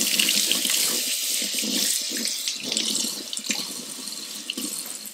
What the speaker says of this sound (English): I like to rinse them off just a little bit.